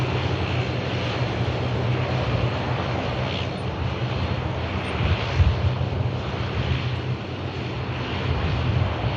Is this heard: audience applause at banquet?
no